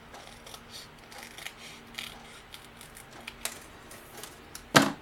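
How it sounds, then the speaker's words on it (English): Quiet scissors snips and small rustles tick along sparsely, ending with one sharper, louder cut close by. "use the scissors and cut the bottom off."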